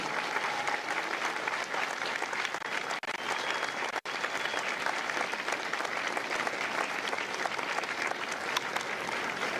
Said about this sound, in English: A round of applause for their dedicated service